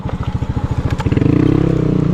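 A motorcycle engine chugging in rapid regular pulses, picking up speed as it rides along close by, with some rattling clatter.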